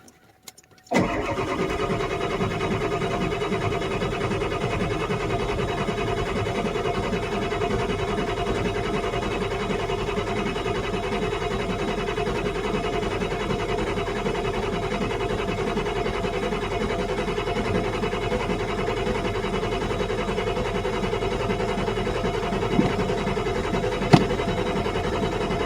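An engine cranks briefly, then catches and runs continuously at full throttle, a steady loud mechanical drone holding for over twenty seconds without voices.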